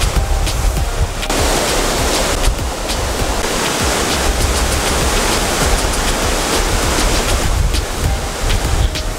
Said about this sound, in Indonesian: saking menikmatinya indahnya pesona alam air terjun Bayang Sani